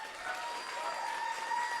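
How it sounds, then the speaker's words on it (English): Dense clapping from a crowd at a Nerd Nite talk fills the room, steady and sustained at moderate volume, with no voices standing out. "We need a big round of applause for Adam."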